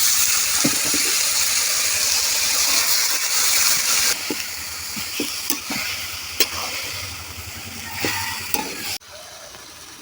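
Bottle gourd fries with cumin, salt and turmeric in a loud, close sizzle. Repeated sharp clinks and scrapes of stirring come in, and the frying quiets near the end.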